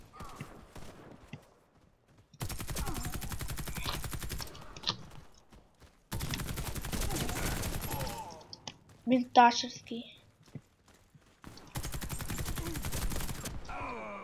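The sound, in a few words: automatic rifle gunfire in the video game Warface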